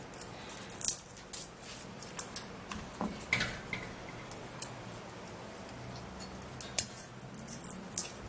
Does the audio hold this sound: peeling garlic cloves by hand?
yes